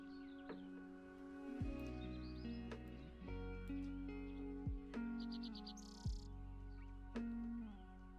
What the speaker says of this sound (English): These past few mornings, I've been awoken by a curious chirping noise.